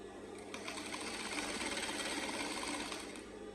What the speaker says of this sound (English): I'm just going to like stitch it all the way straight.